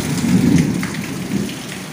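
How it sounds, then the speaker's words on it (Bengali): Heavy rain pours steadily with deep thunder rumbling beneath it. The downpour is continuous and close, with no voices, in a waterlogged area. "তো বৃষ্টি তো এখনো হচ্ছে"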